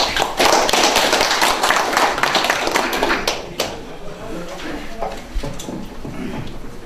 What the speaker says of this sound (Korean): 큰 박수 쳐주십시오